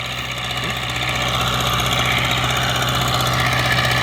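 A YuMZ tractor engine runs steadily under load while pulling a PLN plough through a wet, muddy field after rain, a loud continuous drone with a rhythmic low throb that holds constant throughout.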